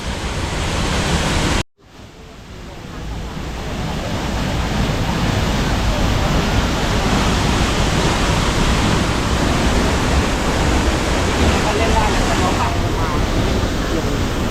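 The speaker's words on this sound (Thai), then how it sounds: "ไหลลงมาระหว่างช่องหินเลยนะครับ น้ำไหลแบบรุนแรง" Loud, steady rush of a waterfall's fast water pouring through a rocky channel, a dense continuous roar close by after a brief cut near the start.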